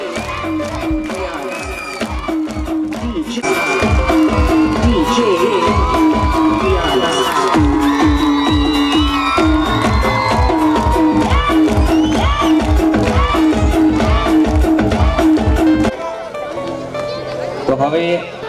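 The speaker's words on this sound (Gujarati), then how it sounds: "એક સાથે તાળીઓ પાડો અને બે હાથે પાડો" An audience at a Republic Day cultural programme claps in a steady rhythm and cheers loudly over music and voices, with the clapping growing fuller and then easing off near the end.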